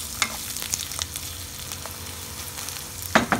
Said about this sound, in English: Our oil is nicely heated up, so we will fry the onion.